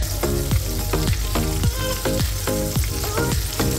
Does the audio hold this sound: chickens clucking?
no